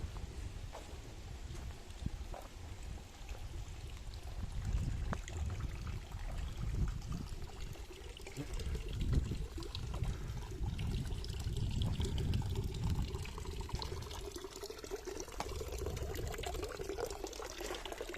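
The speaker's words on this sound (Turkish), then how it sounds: "Şuradan dağdan gelen bir su var." Cold spring water coming straight out of a mountainside runs in a steady, close gushing flow, a broad continuous rush with splashing surges that holds for the whole stretch, with no talking.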